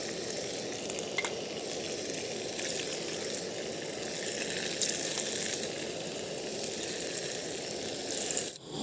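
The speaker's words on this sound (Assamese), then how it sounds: "তেলটো গৰম হ'ব দিছোঁ তাৰপিছত পনীৰখিনি ভাজি ল'ম" Paneer frying in hot oil in a home kitchen, a steady dense sizzle and crackle running close and loud throughout, with a faint clatter near the end.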